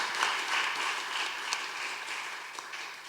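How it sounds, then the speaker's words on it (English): Live audience applause at a Facebook Live music event, a faint, steady patter of many hands clapping that carries on throughout the clip. "Get a round of applause here."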